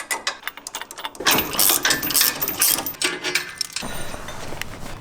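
A ratchet wrench works on the rear sway bar links of a Jeep Wrangler JL, making quick bursts of close metallic clicking and rattling with short pauses between strokes.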